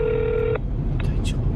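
A telephone keypad emits one sustained dialing tone, then a couple of brief tone blips follow as a call is placed to the Kuo-Kuang/Ubus coach company line, heard over low background hum.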